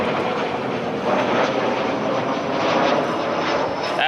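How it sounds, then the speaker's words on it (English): A Southwest airliner passes overhead near Love Field, a broad continuous jet roar that stays steady and fairly loud over several seconds, with nobody speaking. "you constantly hear planes"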